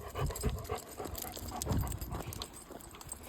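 A dog pants in quick, rhythmic breaths while out on a walk through olive groves in Greece, close and fairly loud, with a few soft footfall-like knocks mixed in and no talking.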